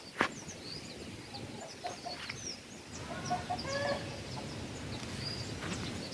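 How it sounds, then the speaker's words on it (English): A hen clucks at a distance outdoors on a rural African homestead. The calls are faint, scattered and intermittent over quiet background ambience. "hens, a hen screaming from our place"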